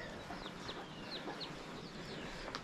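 Faint, scattered clucks and chirps from a broody hen set on partridge eggs, thin and distant over a dense, hissy background with no clear voices.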